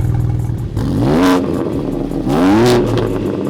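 A BMW M4 Competition with its factory exhaust valve system, revved twice in quick succession from idle, each blip rising sharply then falling back to a loud rumbling idle, close by.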